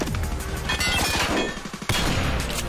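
Rapid, loud gunshot bursts from the Madness Combat animation, a fast crackling fusillade with a heavy impact near the end, close and dense with no talk.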